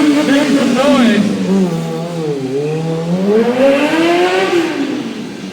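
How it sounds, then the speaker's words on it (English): A stunt motorcycle revs hard through a big burnout at a freestyle stunt show in Minneapolis, its engine pitch rising, dipping and climbing again, loud and close under an announcer's commentary. "Coming in with a big burnout, making some noise."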